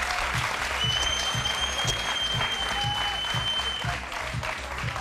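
An audience claps steadily and thickly throughout, the applause riding over a pulsing low beat and a sustained high tone, staying loud until it eases slightly near the end.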